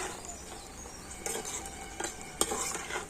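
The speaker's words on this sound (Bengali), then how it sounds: "এই চিপসগুলোকে উল্টে পাল্টে খুব সুন্দর করে ভেজে নিতে হবে" Thin potato chips turned over and shallow-fried in oil on a low flame: a steady soft sizzle with light scraping and clinking of a utensil against the pan, a few sharper taps.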